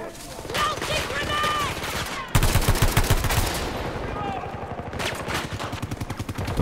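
Dense rapid bursts of automatic gunfire in a video game shooter, loud and sustained with short breaks, some distant shots and game effects behind.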